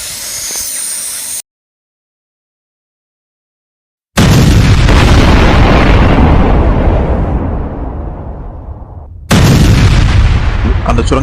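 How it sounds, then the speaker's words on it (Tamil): A massive explosion blows apart a tunnel packed with rifles and ammunition in a western film, a loud roaring blast after a brief silence, decaying over several seconds before a second burst of rumbling debris. "அங்க பெரிய வெடி விபத்து அங்க நிகழுது"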